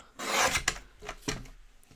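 Craft paper trimmed on a paper trimmer, heard as a close rasping slide of the blade followed by a couple of shorter scraping strokes, with no speech.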